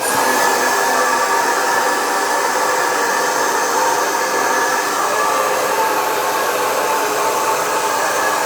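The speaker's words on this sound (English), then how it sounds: "Sorry for the blow drying noises." A hair dryer blows loudly and continuously at close range, a steady rushing whoosh with no pauses.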